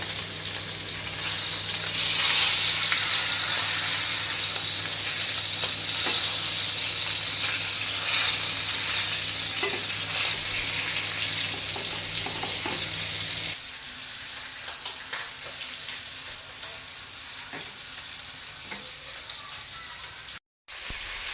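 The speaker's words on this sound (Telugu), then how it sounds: "స్టీమ్ చేసుకున్న చికెన్ని కూడా పెట్టేసుకొని ఫ్రై చేసుకుందాం." Steamed chicken pieces for chicken mandi sizzle and fry in a pan with a steady broadband hiss, a low hum present through the first half, then quieter continued frying.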